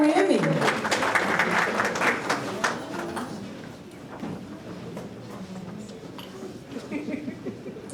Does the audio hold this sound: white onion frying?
no